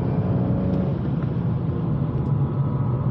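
A BMW M140i at speed on a race track, turning into a corner, its engine a steady loud rumble heard from inside the car, with continuous road and tyre roar.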